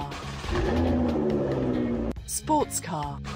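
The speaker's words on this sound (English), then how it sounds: "Sports car." A sports car engine drones loudly with a steady, slightly wavering tone for about two seconds, then stops abruptly and a voice speaks over a quieter background.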